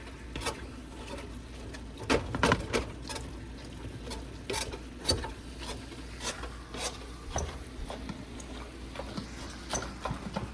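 A meat chopper tool scrapes and clacks against a pan, breaking up ground meat as it browns, giving irregular close taps and knocks over a low sizzling hiss.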